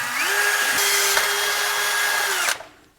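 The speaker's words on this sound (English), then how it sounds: "I'm gonna drill a smaller pilot hole first." A drill whines at a steady pitch as it bores a small pilot hole for throttle linkage on a 1967–72 Ford F100, running for about two and a half seconds before winding down to silence.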